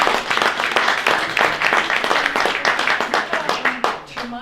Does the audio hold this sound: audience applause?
yes